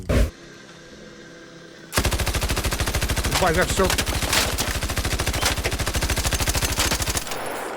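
Video game gunfire: a short burst, then a long rapid automatic volley of loud shots, with a man's brief speech at the start.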